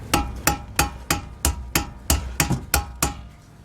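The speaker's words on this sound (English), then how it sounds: "You can hit it with a hammer." Rhythmic metal hammer blows on the rear brake rotor of a 2007 Acura TSX during a brake job, about ten sharp, evenly spaced ringing strikes close by, with no talking.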